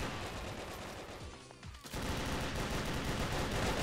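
Gunfire in the blocky shooter Brick-Force rattles as a dense, rapid stream of shots. It dips briefly near the middle, then resumes louder and fuller.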